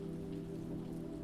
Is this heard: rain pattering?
yes